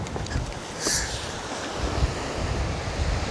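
Surf rolls onto Rialto Beach in a constant wash of ocean noise, mixed with wind buffeting the microphone and a brief hiss of spray, with no talking.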